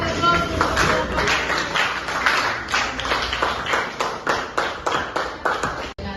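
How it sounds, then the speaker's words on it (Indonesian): A classroom of vocational high school students claps together for a presentation, a dense, steady patter of many hands lasting several seconds, fairly close and loud, with some voices mixed in. "Oke, kasih aplaus."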